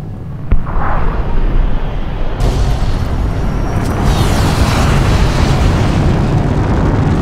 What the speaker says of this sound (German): Ah, zum Glück in der Luft explodiert.